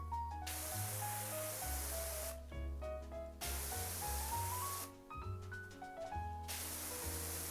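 A pressure washer sprays in the video game PowerWash Simulator 2, giving long hissing bursts that start and stop over gentle background music.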